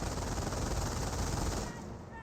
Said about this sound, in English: getting flanked by the MG42